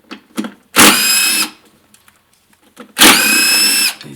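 Power tool loosening 10 mm bolts from a small bracket on a Ford 4.6L V8 engine, two loud whirring bursts of about half a second and one second, with faint clinks and handling noises between them.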